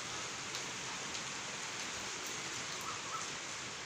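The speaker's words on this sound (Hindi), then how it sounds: "बारिश जो है वो हो रही है" Early morning rain falls steadily, a dense even hiss of drops on surfaces that holds level throughout with no voices.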